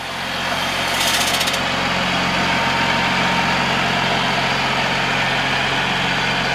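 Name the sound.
Cummins ISB 6.7 turbo diesel engine idling in Freightliner M2 truck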